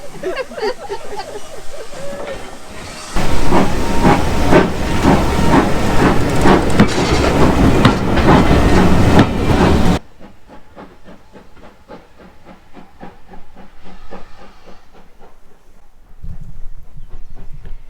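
A steam train on the Severn Valley Railway hisses loudly for several seconds with rhythmic chuffing and clatter, then cuts to quieter rolling clickety-clack of carriages on the rails, heard from on board.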